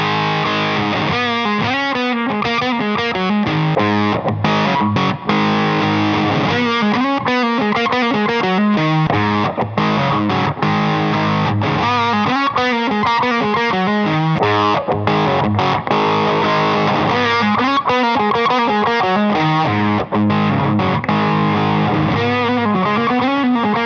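An electric guitar runs through a fuzz pedal and plays a continuous, heavily distorted passage of thick, saturated notes and chords at a steady, loud level, with no talking.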